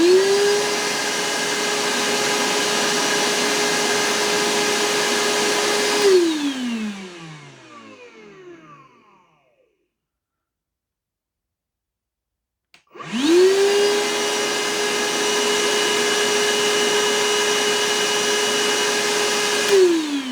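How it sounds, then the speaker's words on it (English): Evolution R11VAC 18V cordless wet and dry vacuum running with a loud steady whine of about 83 decibels from a little over a meter away, then powering down to silence and starting up again with a rising whine to full speed. "I'm just going to see just how loud the vacuum actually is"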